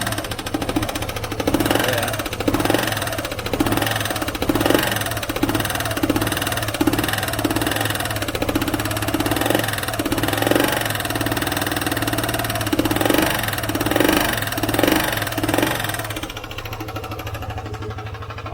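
Vespa ET4 scooter engine idling with a blowing exhaust leak, a steady close mechanical run with a rhythmic tapping pulse throughout, and brief speech at one point.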